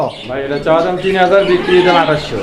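Fancy pigeons for sale coo in soft, rolling calls close by, several overlapping throaty coos in quick succession.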